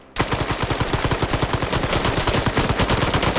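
A player dumps a full magazine in a military shooter game, a long unbroken stream of rapid, loud gunshots fired at a steady automatic rhythm for over three seconds.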